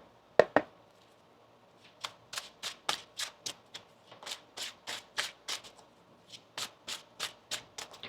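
Tarot cards being shuffled by hand: two sharp riffles near the start, then a steady run of about twenty quick, crisp card flicks, close and fairly quiet.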